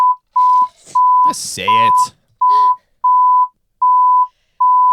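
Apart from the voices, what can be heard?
censor bleep over speech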